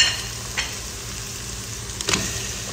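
Chicken pieces with spices sautéing briefly in fat in a pan for a red chicken machboos, a steady soft sizzle with a couple of louder scraping stir strokes, heard close and alone.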